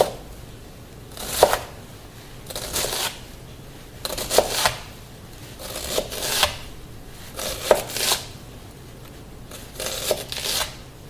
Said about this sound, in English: I'm curling them in and putting the knife right against the knuckle, which is going to guide the cut